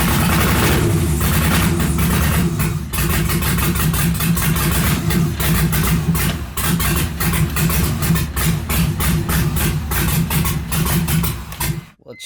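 A V8 engine swapped into a Mazda RX-7 FD catches and settles into a rough, uneven idle, loud and close, with a steady lumpy rumble that dips briefly before cutting off at the end.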